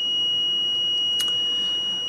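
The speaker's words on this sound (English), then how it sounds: "keeping the buzzer muffled or silenced" A buzzer on an ESP32 electronics project sounds a continuous steady high-pitched tone, with a brief click partway through.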